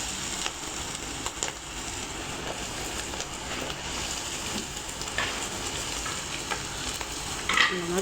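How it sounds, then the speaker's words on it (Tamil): Rice puris frying in hot oil give off a continuous dense sizzle and crackle, broken by occasional sharper spits and the scrape of a utensil, with no one speaking. "எண்ணெய் நல்லா காஞ்சதும் நம்ம ப்ரெஸ் பண்ணதை எண்ணெயில் போட்டுக்கலாம்."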